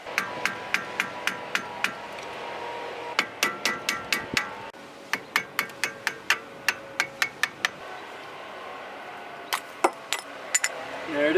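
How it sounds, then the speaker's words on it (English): Sharp metallic taps of a hammer striking a flathead screwdriver to pry off the front wheel bearing dust cap on a BMW E46, arriving in steady close-up runs of about a dozen clinks each, with brief pauses between runs. "you take your hammer and your flathead and you pry off the old dust cap."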